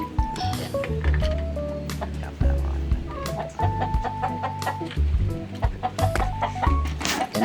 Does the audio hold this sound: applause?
no